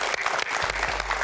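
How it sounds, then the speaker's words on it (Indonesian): Lively audience applause welcoming a guest on a comedy show, a short dense burst of many hands clapping, loud and close, with no break. "beri tepuk tangan yang meriah"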